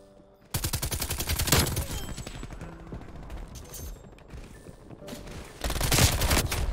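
Long sustained bursts of rapid fire from an RPD light machine gun in Call of Duty Cold War, loud and close, with a lull of battlefield noise before a final burst.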